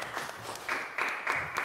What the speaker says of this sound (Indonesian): Tepuk tangan dulu Marvin.